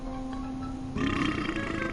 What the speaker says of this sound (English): That's a screensaver right there when he burps.